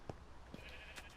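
A Minecraft sheep gives short bleats, a couple of brief, quiet calls spaced apart over a faint background, with no one speaking.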